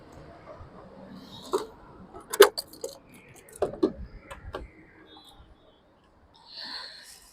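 Keys for a Hero Vida V1 Pro electric scooter jingle and clink in a few short, scattered bursts, close and fairly quiet, with brief handling rustles between them.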